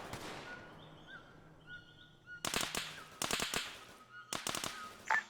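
Gunfire in the video game Arma 3 during a military operation in Sierra Leone: after a quiet stretch, clusters of rapid sharp shots ring out in bursts, fairly loud against low background ambience with faint tonal beeps.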